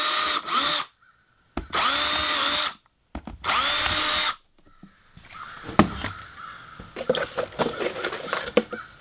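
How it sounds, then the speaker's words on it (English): A power drill bores holes in pine paneling in three loud, whining bursts of a few seconds each, followed by quieter clattering and handling noises. "Now I'll get some drill holes here."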